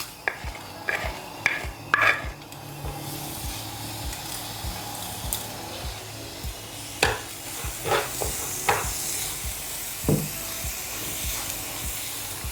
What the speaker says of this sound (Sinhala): අපි මුලටම කැකුළු හාල් ටික බැදගමු